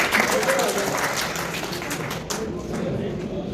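Audience applause welcoming a singer onto a stage, dense crowd clapping throughout that thins toward the end, with a voice talking over it.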